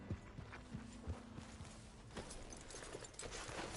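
Hooves of a horse clip-clopping at a walk in Red Dead Redemption 2, a faint, evenly paced series of soft knocks over a steady background hum, no talking.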